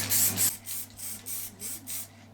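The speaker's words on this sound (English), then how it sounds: "we used spray varnish for finish" Spray varnish hissing from a can onto walnut coasters indoors, one long loud burst followed by four shorter, evenly spaced puffs.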